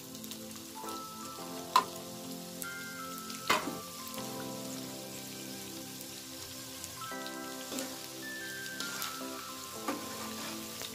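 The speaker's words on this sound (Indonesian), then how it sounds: "ini saya goreng menggunakan api kecil ya" Food fries in hot oil over low heat, a steady crackling sizzle with scattered pops and a few sharper clinks from a utensil, continuous and close.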